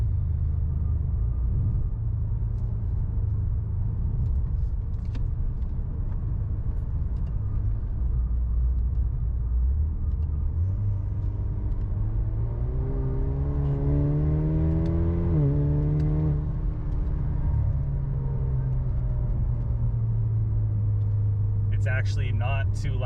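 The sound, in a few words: Cadillac ATS with Renick Performance exhaust driving aggressively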